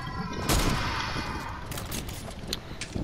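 Gunfire in the Fortnite video game, a burst of sharp cracks opening the passage followed by a steady rattle of further shots and scattered impacts, fairly close and loud throughout.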